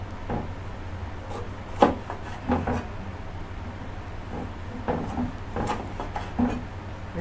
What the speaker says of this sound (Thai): จะหั่นมะนาว